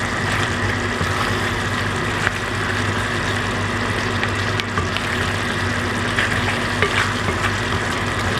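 Food fries and simmers in a pan with a constant, close crackling sizzle, a steady hiss broken by small pops, over a low background hum.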